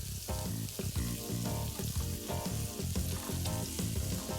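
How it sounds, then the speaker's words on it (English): Finely shredded cabbage, carrot matchsticks and sliced green capsicum stir-fried for American chopsuey: a loud, dense, continuous sizzle close up, with quick rhythmic scrapes and taps of stirring and a rising tone running through it. "Now just stir fry these, mixing it together really well"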